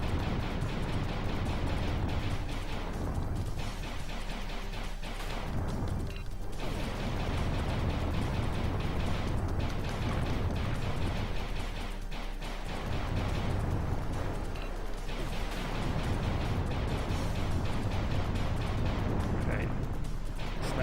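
Cannons on an enemy ship being blasted apart in the Sega Saturn game Panzer Dragoon, with a continuous roar of booming explosions and bursts of game fire, dense and loud throughout, with occasional brief dips between blasts.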